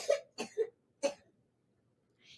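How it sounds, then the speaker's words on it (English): A person coughs several short times, close and fairly quiet, with a brief pause and a faint sound at the end. "If you keep coughing like that, I'm giving you cough medicine."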